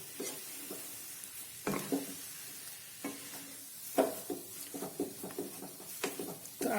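Sweet mohanthal-style mixture stirred in ghee inside a kadai, with repeated scraping strokes of the spoon against the pan and a soft sizzle underneath, close and fairly quiet.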